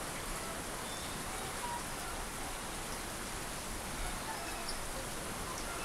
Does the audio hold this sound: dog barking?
no